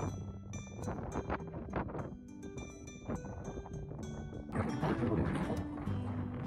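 Strong wind buffets the microphone with rough, continuous gusts on the Atlantic coast, mixed with clattering and rushing outdoor noise that grows louder toward the end.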